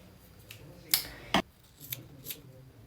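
Kitchen scissors cut hair in a few sharp, distinct snips close by, two of them louder, spaced irregularly against a quiet room.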